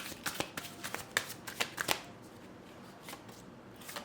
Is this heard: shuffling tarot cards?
yes